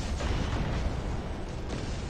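Rapid weapon fire in a war video game, a dense continuous barrage of gunshots and booms that stays loud and steady throughout with no break.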